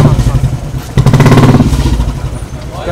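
A motorcycle engine revs in loud, pulsing bursts, swelling after a brief dip, with talk-show crowd and voices mixed in; it may be a voice imitating a bike.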